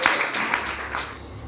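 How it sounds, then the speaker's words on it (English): A short burst of audience clapping greets someone coming on stage, a dense patter of many hands that fades down over about a second and a half. "A round of applause for Smangele."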